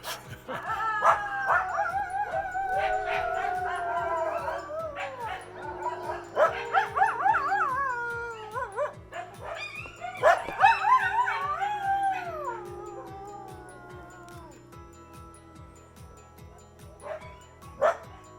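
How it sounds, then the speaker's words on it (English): Several dogs across the road howl and bark together, a layered chorus of wavering howls and sharp yips that rises and falls for most of the stretch before fading to occasional barks. "And then there's dogs. Dogs across the road. Joining in."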